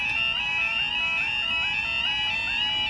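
Level crossing alarm at Sleaford East crossing in Lincolnshire, running in quieter night mode: a continuous warbling electronic tone repeating in steady rising sweeps about twice a second, loud and close, with no voices.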